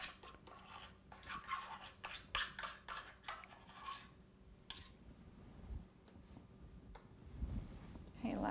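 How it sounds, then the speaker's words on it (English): Spatula or knife scraping excess red icing off the side of a cup while decorating a Valentine's Day brushed embroidery cake, a series of short rasping scrapes and taps, close and fairly quiet, with brief pauses between strokes. "I'm scraping off the side of the cup because I don't want excess to drop in the area where I don't want it."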